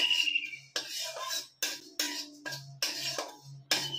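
Whole cumin seeds and radhuni dry-roasting in an empty wok, heard as repeated scraping and rattling strokes of a spatula against the pan in bursts, with brief pauses between, fairly close and clear with no talking.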